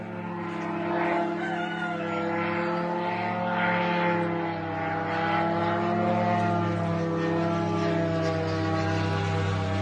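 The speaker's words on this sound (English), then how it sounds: "You hear the drone going over." A steady buzzing drone passes overhead, its droning tone holding strong and even throughout with a slight swell midway.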